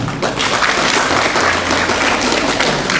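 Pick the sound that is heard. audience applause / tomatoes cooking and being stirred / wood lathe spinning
audience applause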